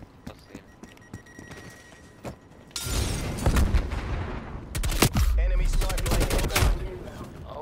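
Heavy shotgun blasts in Black Ops Cold War, a few quiet shots followed by loud, close, booming repeated firing in quick bursts.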